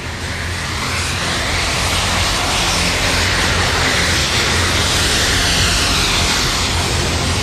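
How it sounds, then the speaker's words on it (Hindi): Jet-powered flying hoverboard in flight, a loud, continuous turbine roar with a broad rushing noise that holds steady throughout, no voices present. "हवा में होवरबोर्ड पर उड़ते देख रहे हैं वो हैं फ्रैंकी जपाटा।"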